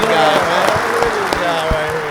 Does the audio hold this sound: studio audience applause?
yes